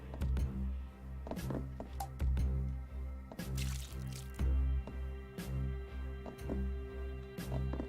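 Watering a plant in the video game The Sexy Brutale: a series of soft liquid drips and squishy splashes, some close together, over steady tonal game music.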